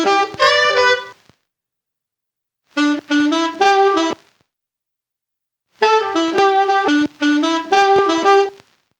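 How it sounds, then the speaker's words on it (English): Resampled horn chops from a beat made on a Roland SP404 mkII sampler, with extra effects and a vinyl simulator, playing in short bright stabbing phrases separated by gaps of silence, no voices. "the final horns in the beat sound like this."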